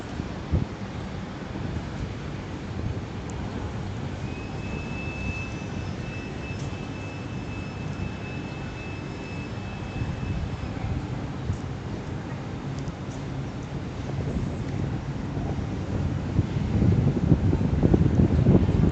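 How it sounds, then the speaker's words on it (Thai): Strong wind buffets a Cherry Mobile Thunder 2.0 phone microphone outdoors at Mahidol Phaya Thai, a steady low rumble lasting throughout and growing louder near the end, with no talking. "ลมค่อนข้างแรงนะครับ"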